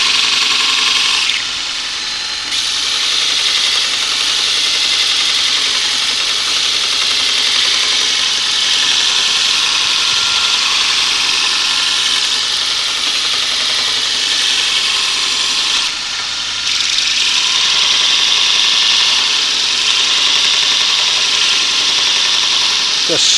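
A Robert Sorby Pro Edge belt sharpening system grinds the bevel and wings of a woodturning tool, a loud, steady abrasive hiss over a motor hum, with two brief breaks as the tool lifts away.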